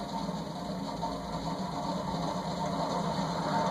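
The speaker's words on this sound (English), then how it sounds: "It's impossible to tell if it's noisy on the variable speed because the bearings are so noisy." A steady mechanical hum from a Wing TAT 48-inch ceiling fan with noisy bearings, a low rumble and faint rattling whir, constant and continuous throughout.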